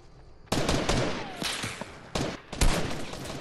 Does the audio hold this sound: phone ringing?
no